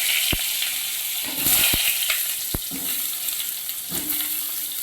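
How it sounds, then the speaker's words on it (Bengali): Eggplant pieces fry in oil in a wok, a steady close sizzle with several sharp knocks and scrapes of a spatula against the pan. "এবার বেগুনগুলো ভেজে নিচ্ছি"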